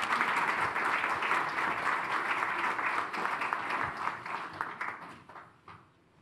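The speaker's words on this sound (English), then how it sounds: "if we could give a round of applause to our panel" Sustained audience applause for a discussion panel at a Q&A event on Indo-UK collaboration, dense steady clapping from a large crowd that thins out and fades over the last second or so, with no talking.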